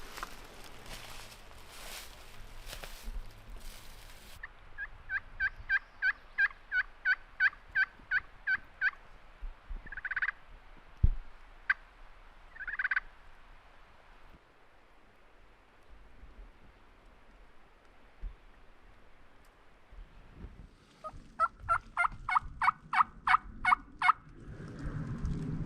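Wild turkey gobbler, a dominant tom with hens in Alabama public back country, gobbling in repeated rattling bursts at mid distance, with quiet stretches between and another loud gobble sequence near the end.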